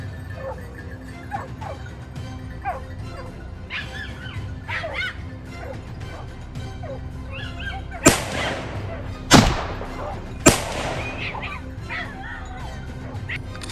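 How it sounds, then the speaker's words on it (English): Hunting hounds bark from bushes on a mountain slope, several yips and barks scattered at middle distance, with a few sharp loud bangs cutting through later. "the hounds barked loudly from the bushes below"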